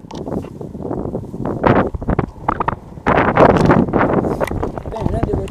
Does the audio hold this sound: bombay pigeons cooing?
no